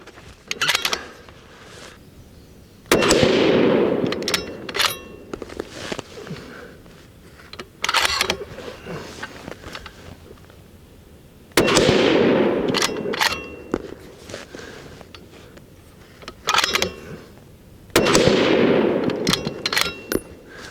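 A Bergara Premier rifle in .308 Winchester fires Gold Medal Match ammo: three loud, widely spaced shots, each with a long echoing tail, separated by quieter clicks and handling noises.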